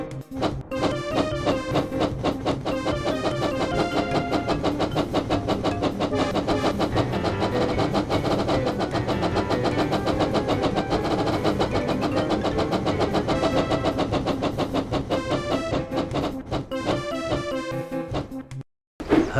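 A rapid, rhythmic chugging toy train engine sound from a Thomas & Friends: Hero of the Rails video game, with a steady mechanical pulse, loud and continuous for most of the clip before cutting out near the end.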